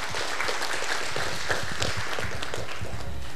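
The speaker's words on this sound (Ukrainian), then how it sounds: "і ще раз оплески, шановні друзі" Dense, steady applause from an audience at a charity creative evening honoring an amateur folk ensemble, continuous and fairly close, with no talk over it.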